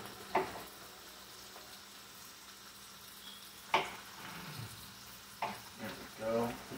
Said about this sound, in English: See that bacon cooking?